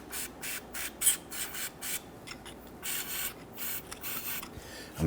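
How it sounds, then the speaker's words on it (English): Short bursts of hissing spray lubricant from a can onto a crankshaft position sensor of a 2017-2020 Hyundai Elantra 2.0L, several quick puffs in an irregular rhythm, close up, with faint scraping and handling noise between them. "So I'm going to use some spray lube."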